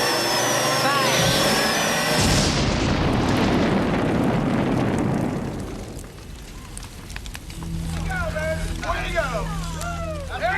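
A sci-fi sonic bore fires with a huge roaring explosion that swells, rumbles and slowly fades, followed by lingering low rumble and scattered debris-like noise, a loud film sound effect with no talk over it.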